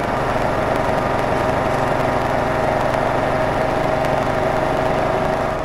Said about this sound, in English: Let's mow that down.